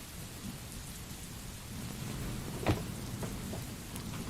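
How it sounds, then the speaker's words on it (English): Steady rainfall hisses throughout while a single sharp thunder crack breaks through partway, followed by a few fainter knocks and drips, with no voices. "Can you all hear the rain okay?"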